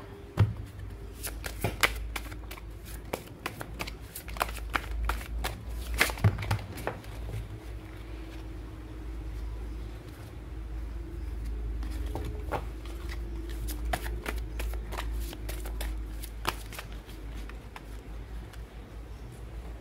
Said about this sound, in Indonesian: Kartunya jatuh.